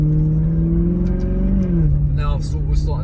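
A Maserati GranTurismo S V8 revs through a sport cats exhaust with an X-Pipe and resonators, giving a loud, steady rumble that rises and then eases back, with brief crackles near the end.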